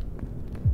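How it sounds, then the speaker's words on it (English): A heartbeat effect in the Forewarned VR horror game, a faint low throbbing pulse, soft and muffled, with one stronger thump near the end. "Heartbeat's going, yeah."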